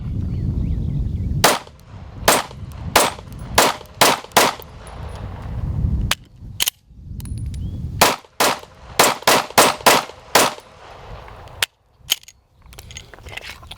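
Pistol shots fired at a target outdoors, sharp loud cracks spaced in uneven bursts of two or three with brief pauses, ringing out alone without talk.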